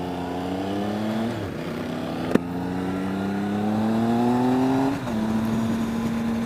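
A 2013 Triumph Speed Triple motorcycle engine revs up on a test ride, its pitch climbing steadily through the gears with a brief drop at a shift, loud and close throughout with no talk.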